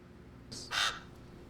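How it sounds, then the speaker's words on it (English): A crow gives two short, harsh caws close together, loud and clear over a faint low hum, then quiet. "Don't listen to it. Crows are all liars."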